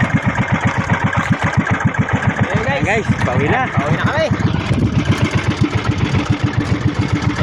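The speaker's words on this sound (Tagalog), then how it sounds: "Maganda na ang tunog ng makina." A small fishing boat's engine runs in a steady, fast chugging rhythm close by, loud and continuous, while someone talks over it throughout.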